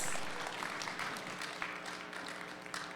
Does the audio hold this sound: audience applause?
yes